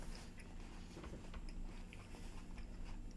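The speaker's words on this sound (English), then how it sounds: "chewing in the background" Someone chewing food near the microphone, with soft irregular mouth and crunch noises over a steady low hum and no talking.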